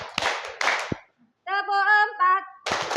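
A group claps hands in short rhythmic bursts as a classroom ice-breaker, with a brief hum-like tonal sound between the rounds of clapping.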